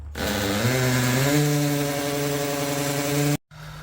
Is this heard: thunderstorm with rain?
no